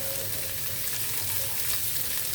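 Onions frying in oil with ginger garlic paste, cooked for a coconut rice and chicken curry, give a steady, close sizzle that continues without a break and with no talking.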